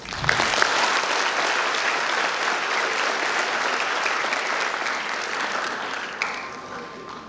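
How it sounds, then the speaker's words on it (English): An audience at an international nursing seminar applauds speakers called to the stage, a dense steady round of clapping that fades slightly near the end. "Ladies and gentlemen, please give applause."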